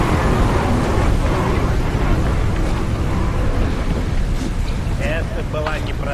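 A violent storm at sea in the horror game Call of Cthulhu: Dark Corners of the Earth, with a constant loud roar of wind and churning water; a few brief voice-like tones rise near the end.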